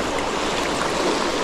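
A river flowing during a trout fishing trip on the Iregua and Najerilla in La Rioja, a steady, loud broadband rush of moving water with no break and no voices.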